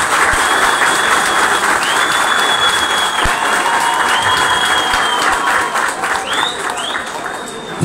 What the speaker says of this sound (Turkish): Onlara kuvvetli bir alkış alalım sizden.